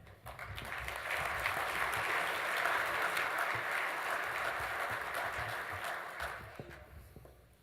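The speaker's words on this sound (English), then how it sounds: "Let's give Brian another round of applause" Sustained audience applause at an appreciation banquet, swelling to a steady full round of clapping then fading out at the end, moderately distant in a large room.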